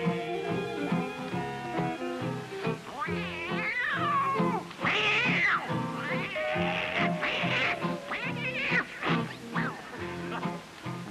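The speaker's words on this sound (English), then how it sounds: "Now that old tomcat started a fight, and this is the way it all did sound to me." Tomcats fighting, with drawn-out yowls, wailing caterwauls and sharp meows rising and falling over several seconds, fairly loud, with some voices in the background.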